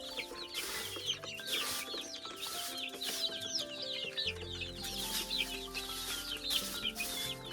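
Chickens on a pig and poultry farm in Kokrajhar, several birds clucking and squawking in quick overlapping bursts, close and steady throughout, with no talking.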